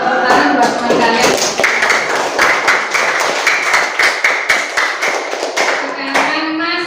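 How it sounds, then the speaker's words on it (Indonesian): A classroom of students claps for a classmate after a presentation, a dense burst of hand claps rising and holding steady for several seconds before tapering off, with some voices mixed in. "Tepuk tangan buat teman kalian."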